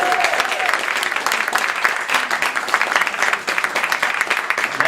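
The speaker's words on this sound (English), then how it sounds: "Let's give her a round of applause" Sustained applause from an audience at a child study center grand opening, honoring Ethel Seiderman; dense steady clapping fills the room throughout, with a voice briefly audible at the start.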